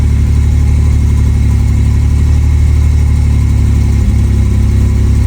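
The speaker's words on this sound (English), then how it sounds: "the RPMs will idle at around 1 or less, 800. So it's still giving high idle" A 1986 Pontiac Fiero GT engine idles at a steady, slightly high rpm, a close, loud and even mid-pitched hum with no talking over it.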